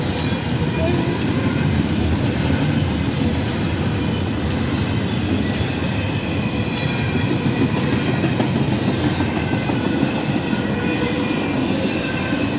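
A CSX freight train, locomotive 742, rolls past nearby in Altamont, Illinois, a loud continuous rumble with steady wheel clatter and faint squealing throughout.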